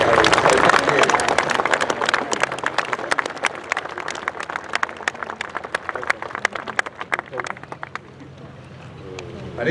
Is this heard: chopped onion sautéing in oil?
no